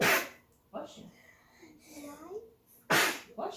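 A single sharp sneeze from a child in a kindergarten classroom, followed by another short burst, with quiet voices talking in between.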